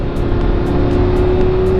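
A Lamborghini Huracan sports car drives hard at Istanbul Park circuit, its engine close and loud with a steady high-revving drone throughout a short burst, no voices present.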